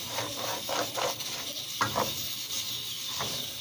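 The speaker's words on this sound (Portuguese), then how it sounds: "coloquei o arroz aqui. E vou deixar ele dourar também, né? Refogar aqui nesse tempero" Rice sautéing in seasoning in a pan gives a steady, moderately loud sizzle with soft stirring scrapes scattered through it, and no voices.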